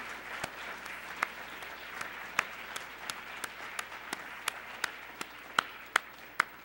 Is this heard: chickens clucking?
no